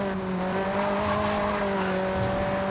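A Ferrari in the Forza Horizon 5 racing game drives at speed with a steady, sustained engine drone and faint tyre noise, heard alone without talk.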